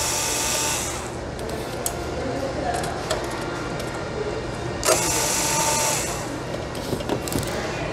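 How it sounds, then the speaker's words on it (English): Screws being removed from a power supply unit with a power driver, whirring in short close bursts between quieter handling noise, with a voice speaking at times. "hold on to the power supply while removing these four screws"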